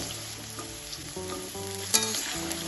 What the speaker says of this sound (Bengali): এগুলো ভালোভাবে তেলের সাথে একটু ভেজে 3 থেকে 4 মিনিট আমি আলু এবং ডাঁটাটা ভেজে নিয়েছি।